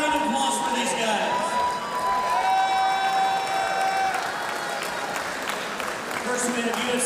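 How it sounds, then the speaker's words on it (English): Applause and cheering from a crowd greet fighters entering the cage at a live fight-night show, a steady wash of clapping heard alongside a sustained tone. "Another round of applause for these guys."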